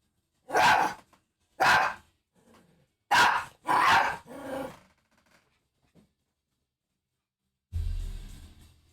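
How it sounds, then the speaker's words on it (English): A dog barks in several loud, close bursts with some lower growling between them during rope-toy play indoors, ending in a rougher growling burst after a pause. "I know you can hear him barking."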